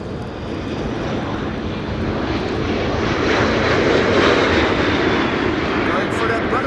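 Engines of a Delta Airbus A330 at Amsterdam Schiphol roar steadily, a loud continuous jet drone that swells slightly over several seconds, with wind noise and a voice talking faintly underneath.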